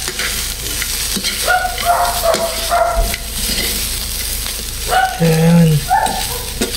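Boiled meat sizzles and fries in a pan as it is sautéed and stirred, with scraping stir sounds, a brief spoken word and some background noise.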